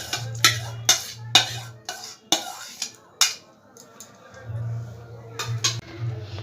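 Soaked dry fruits are stirred into plum cake batter in a bowl, giving a series of sharp clinks and scrapes of a spoon against the bowl at an uneven rhythm, with a voice speaking between the strokes.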